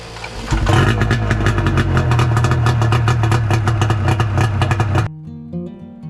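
A two-stroke snowmobile engine runs loud and steady with a dense, rattly drone for about five seconds, then drops abruptly to a quieter, lower idle.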